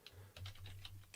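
Quick, close keystrokes on a computer keyboard while entering a Linux command, about half a dozen light clicks in a brisk, uneven rhythm, quiet and alone.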